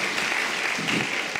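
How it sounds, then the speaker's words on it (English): An audience at a talent show applauds, a dense, steady wash of clapping that fills the whole stretch with no pause and no voice above it. "Give yourself a round of applause for coming out"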